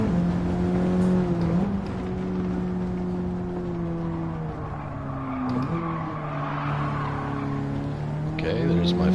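Race car engine in Gran Turismo 7 drones and shifts pitch steadily with tire squeal and skidding, loud and continuous, while a person talks over it.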